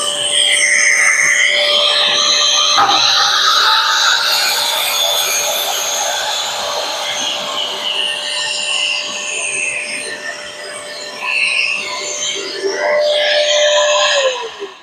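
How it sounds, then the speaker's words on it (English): A vacuum cleaner roars steadily up close with a constant high whine, running loud and unbroken for the whole stretch before cutting off at the end. "Guess I better turn the vacuum on."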